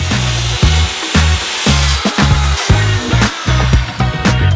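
A power saw cuts through a wooden desktop board guided along a clamped guide board, its steady buzzing whine broken by short rhythmic pauses and surges, close and loud with no speech.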